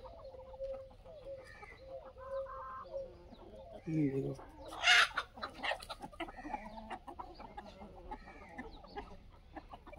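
Desi chickens and a rooster on a free-range poultry farm cluck and call in scattered, close bursts, with one sharper squawk partway through, while someone talks over them.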